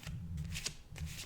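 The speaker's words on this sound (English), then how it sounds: "Now, I'm going to do a little more shuffling" A tarot deck is shuffled up close in several quick riffling bursts, crisp papery flutters and soft card slaps separated by short pauses, quiet and intimate with no speech.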